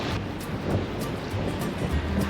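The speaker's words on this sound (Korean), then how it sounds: "지금 바람이 좀 불어서 파도가 좀 치네요." Wind-driven sea waves wash against the Izmir waterfront in Türkiye, a steady close surf rush with gusty wind buffeting the microphone throughout.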